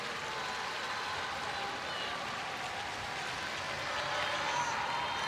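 Crowd applause from the stands at a Leicester City v Chelsea women's football match as Leicester's Hannah Kane is substituted, a steady distant patter of clapping with a commentator talking over it.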